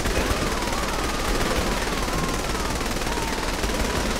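Dense, sustained automatic gunfire from the video game Saints Row The Third Remastered, a loud continuous rattle of shots filling the whole stretch with no break.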